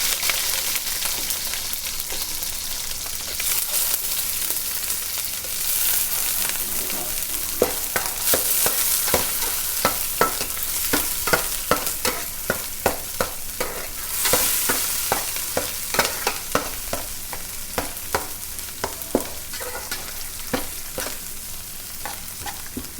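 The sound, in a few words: small dried fish (mettallu) frying in hot oil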